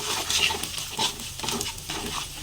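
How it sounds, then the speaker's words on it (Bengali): Taro greens with turmeric, chilli powder and salt are stirred and fried in a pan, giving close, continuous sizzling with scraping stir sounds and no talk. "এবার একটু কষিয়ে নেব।"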